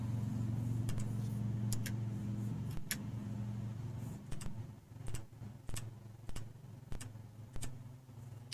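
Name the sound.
truck engine outside the window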